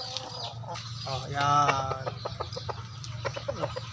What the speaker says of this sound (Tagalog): Ayan yung manok na ligaw.